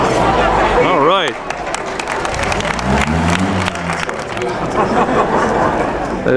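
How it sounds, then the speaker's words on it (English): Crowd at an outdoor classic car concours d'elegance cheering and clapping in a steady, loud wash of applause and chatter, with a public address voice speaking over it. "Listen to the crowd in this one."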